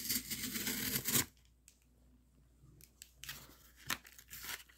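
A tape-sealed shipping package is torn and ripped open up close, with bursts of tearing tape and crinkling cardboard separated by short quiet gaps.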